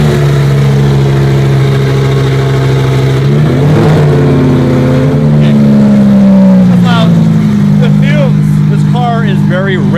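Twin-turbo Lamborghini Huracan engine running rich as the car rolls off a ramp, a steady low idle swelling into brief revs, loud and close, with people talking over it.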